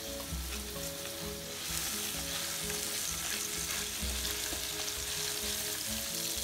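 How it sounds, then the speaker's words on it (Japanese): Chicken pieces frying hard in a pan for tomato cream pasta, a loud continuous sizzle with occasional stirring scrapes, close up and with no talk. "鶏肉をしっかり焼いて、旨味を出すことと臭みを取るっていう両方の役割をしていますので"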